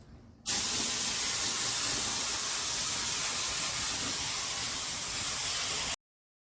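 A paint sprayer fans paint onto a tombstone, a sudden steady loud hiss that starts abruptly, holds evenly for about five seconds, then cuts off cleanly to silence.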